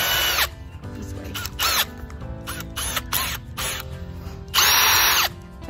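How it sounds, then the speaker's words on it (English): A power drill fitted with an auger bit bores holes in garden soil for planting potatoes, its motor whirring in short repeated bursts with a longer run near the end, close and loud. "This is like a little bit that goes on your drill."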